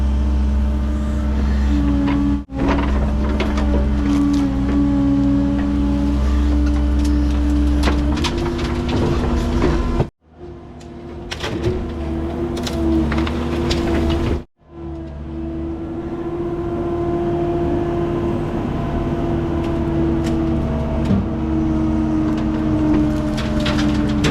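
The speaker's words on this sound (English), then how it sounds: "In my truck." A pickup truck drives at a construction site for a driveway build in Clyde, North Carolina, with a loud, continuous engine hum and shifting tonal whine, broken by two brief dropouts.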